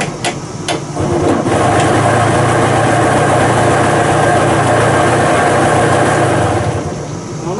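A Suzuki K125 motorcycle engine runs steadily near the listener, its pitch rising briefly at the start with some sharp ticks, then holding a constant roar.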